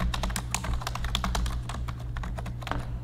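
Rapid, close keystrokes rattle on a computer keyboard as text for a contact page is entered, an even stream of crisp clicks over a low steady hum.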